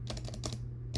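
A Prime keyboard with lubed T1 switches is typed on in a brief run of a few close, soft keystrokes, slightly muted, over a steady low hum.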